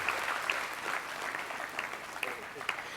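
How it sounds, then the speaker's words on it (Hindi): Audience applause at a Hindu spiritual discourse during Chaitra Navratri, a steady sustained clapping from a large crowd with a few sharper individual claps standing out, filling the whole stretch. "ताली बजाओ इसके लिए।"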